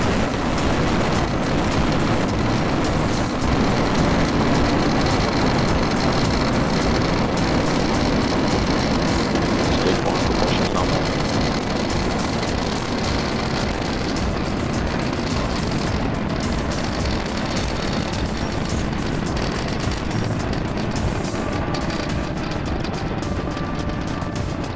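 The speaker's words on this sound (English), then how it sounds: "we have just had liftoff of our Falcon 9 vehicle carrying our Starlink" A SpaceX Falcon 9 Block 5 rocket carrying Starlink satellites roars after liftoff, a dense, continuous, loud rumbling crackle that holds steady throughout.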